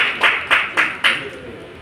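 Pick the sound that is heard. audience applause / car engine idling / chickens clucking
audience applause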